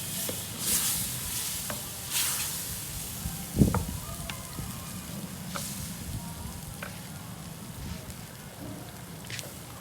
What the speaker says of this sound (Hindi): और चिकन को अच्छी तरह भून लेंगे मसाले में।